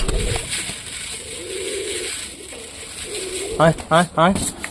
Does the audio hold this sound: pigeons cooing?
yes